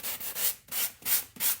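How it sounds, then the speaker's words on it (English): Rhythmic rubbing strokes of sandpaper burnishing the edge of a transfer, four even back-and-forth passes, close and dry, with no voices. "kind of distressing them, sanding them. It's called burnishing."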